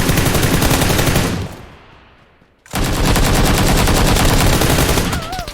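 Rapid automatic gunfire in the video game PUBG PC Lite, loud dense bursts close up that pause briefly and then resume as a long sustained volley.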